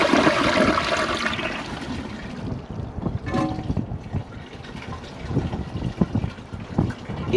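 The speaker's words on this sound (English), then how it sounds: "Flush 2. Let's see if it can take the rest of it." A toilet gives a second flush to clear latex gloves from an American Standard Cadet 3 or Kohler Highline bowl: a loud rushing gush of water that settles into a turbulent swirl and refill, heard close with no talking.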